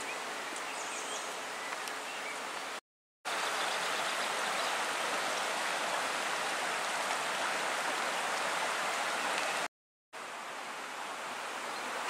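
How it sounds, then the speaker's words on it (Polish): The Bystrzyca Dusznicka river flows beside a walking path, a steady, broad rushing of water heard close by and alone, with two brief silent gaps. "Trasa spacerowa nad rzeką Bystrzycą Dusznicką."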